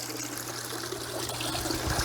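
Water trickles steadily down through water sprite plants in an aquarium, a continuous close, soft splashing flow with a low hum underneath.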